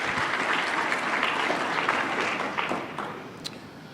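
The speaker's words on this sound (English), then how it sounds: "Let's give these guys a round of applause." Audience applause at a hacker community security conference, steady dense clapping from a crowd filling the room, tapering slightly toward the end.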